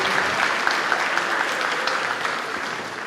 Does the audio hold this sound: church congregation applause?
yes